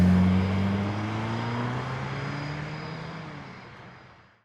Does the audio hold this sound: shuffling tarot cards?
no